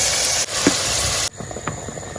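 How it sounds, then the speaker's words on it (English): Blended vegetables with beetroot sizzle and hiss in a hot pan as they are stirred, a loud frying crackle that drops to a quieter sizzle partway through, with soft scraping touches. "let's go ahead and stir in our veggies"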